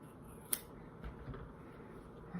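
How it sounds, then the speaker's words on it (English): Scissors cutting through a wool blanket to shape a 14th-century bycocket hat, heard as a single faint snip early on and soft scattered cutting noises, quiet and close with no talking. "my good scissors and start cutting. And it cuts pretty easily"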